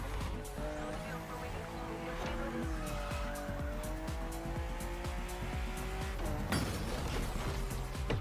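A BMW M car drives hard and skids, its engine note rising and falling through gear changes while tires squeal in long wavering sweeps, with a louder burst near the end, heard at moderate distance.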